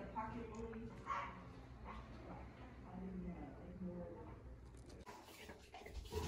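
Dogs barking and yipping in a veterinary clinic, faint and distant, mixed with a person's quiet talk and room noise.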